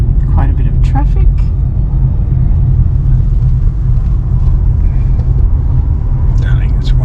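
Steady road traffic on the Pacific Highway, a continuous low rumble of passing cars with a few brighter noises on top, heard from inside or near a moving vehicle while people occasionally talk over it.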